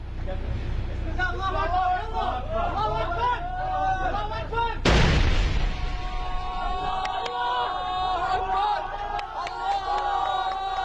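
A rocket strike on a two-minaret mosque in Syria lands as one loud, sharp blast midway, cutting through a constant babble of crowd voices and shouting that continues before and after.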